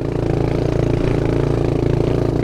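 A motorcycle engine labors steadily on a slick, muddy trail with no grip, its mid-pitched drone holding close and loud throughout without any speech.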